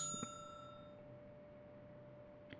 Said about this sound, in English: There's a bell on the other side of the plexiglass.